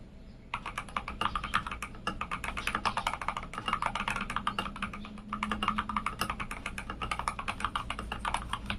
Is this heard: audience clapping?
no